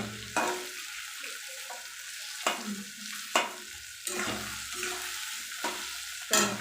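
Spices frying with softened tomatoes and boiled potatoes for a spicy tangra fish curry, a steady sizzle broken by repeated sharp scrapes of a spatula stirring the pan, close and moderately loud.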